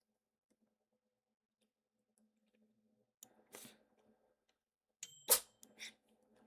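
A single short, sharp sneeze bursts out close by after near silence, with a few small clicks and rustles around it, in a pizza-making game setting.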